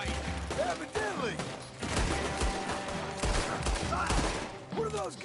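Gunfire from the Red Dead Redemption 2 video game crackles in rapid, uneven bursts across the scene, mixed with game music and voices speaking throughout.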